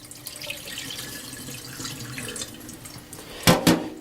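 Water trickles and gurgles as it is poured out of a sprouting jar of seeds through a mesh lid, soft at first, then two brief louder splashing gushes near the end.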